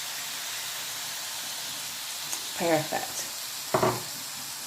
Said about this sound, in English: We're going to add in the bacon. And start here, and it's sizzling already.